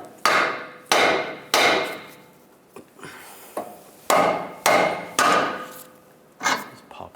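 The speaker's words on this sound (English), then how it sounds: "Now separate the knuckle from the outer tie rod. You can give it a little tap underneath" A hammer raps metal about eight times as a 1998-2010 Volkswagen Beetle steering knuckle is knocked free of the outer tie rod. The blows are sharp, close and ringing, in uneven pairs and singles.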